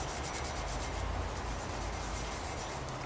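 Steady abrasive scuffing on the painted metal ROPS of a BX tractor, a continuous close rasping rub lasting throughout with no talk.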